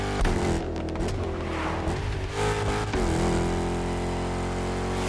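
Swapped car engine idling in The Crew Motorfest, a steady, loud drone with a continuous low hum and slight wavering in pitch, running alone without any talking.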